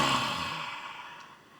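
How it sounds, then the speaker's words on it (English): A single forceful exhale of yogic dragon's breath, loud at onset and tapering off over about a second and a half, heard close and alone. "We're going to breathe everything out."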